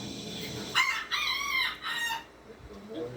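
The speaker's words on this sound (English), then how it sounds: "That chicken, that rooster said" A rooster crows outdoors on a homestead, one loud multi-part cock-a-doodle-doo close to the listener, followed by faint background sound.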